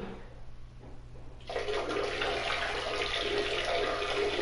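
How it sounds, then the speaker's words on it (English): After a quiet moment, a person urinates into toilet bowl water, nearby and clear. The splashing trickle starts suddenly and holds steady to the end, with no speech. "I'm sorry if you hear my loud pee."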